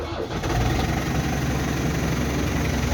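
A New Holland TD100D tractor's diesel engine runs at a steady idle after a cold start in freezing weather, a dense continuous rumble close to the microphone with no break.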